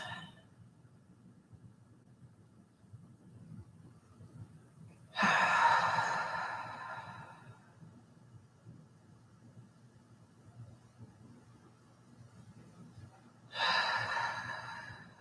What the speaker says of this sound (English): Breathing super deep here, nice and deep gut breaths.